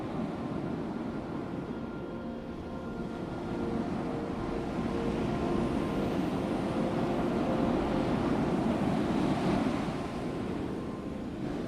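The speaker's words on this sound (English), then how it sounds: "I listen to the waves." Ocean waves breaking against a headland, a steady roaring surf that swells and eases over several seconds, with wind buffeting the microphone and no voices.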